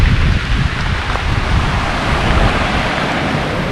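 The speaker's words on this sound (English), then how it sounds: "Yes, it's windy, it's rainy, it's rough seas." Rough sea surf crashes under heavy wind and rain along the shore before a rainy spell, a loud, continuous roar with wind buffeting the microphone and no voices.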